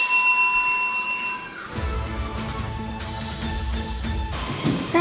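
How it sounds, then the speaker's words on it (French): A single bright bell strikes and rings out clearly, then fades under a busier clattering background of noise for the rest of the moment. "Et cinquième solution, la sonnette."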